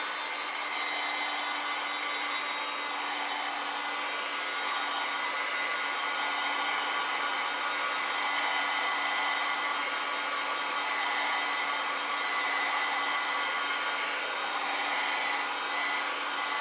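A hair dryer blows steadily on a watercolor painting for the full stretch, a loud, even broadband whoosh with no pauses and no voices.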